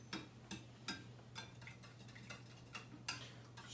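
Eggs are whisked in a bowl for French toast, a faint, steady series of light clinks and taps of utensil against dish roughly every half second, over a low background hum.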